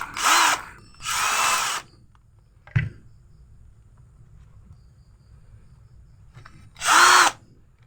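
Morris 16.8V 10mm brushed cordless drill, three short bursts of its whining motor spinning up and stopping, separated by near silence with a single click in between, no talking.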